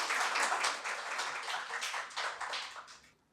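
An audience at a talk on medical service applauds, a dense, steady burst of many hands clapping at once that carries on for a few seconds and then tapers off at the end.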